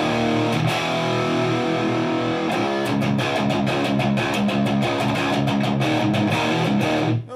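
An electric guitar with a single-coil pickup plays loud, heavily distorted chords and riffs with sharp repeated picked attacks, ringing alone throughout before cutting off at the end.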